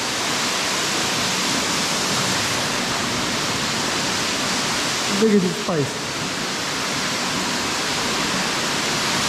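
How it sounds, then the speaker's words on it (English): A waterfall pours into a swimmable canyon pool with a loud, constant roar of rushing water. A person speaks briefly over the noise. "Waterfall within a canyon."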